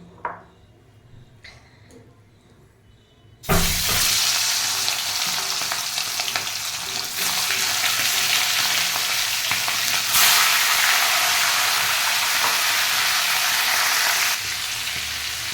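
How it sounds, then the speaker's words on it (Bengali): Chicken meat drops into hot oil for a dhaba-style chicken curry. After a few quiet clinks, a loud sizzle bursts in and holds as a dense, crackling roar with stirring. "এই তেলের মধ্যে আমি দিয়ে দেবো মাংসটা"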